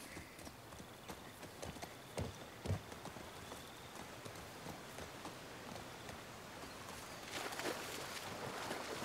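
Horse hooves clip-clopping in The Last of Us Part II, a steady run of soft, evenly spaced hoof falls on ground amid quiet outdoor ambience, with a couple of louder thuds midway and a brief swell of wind or rain near the end.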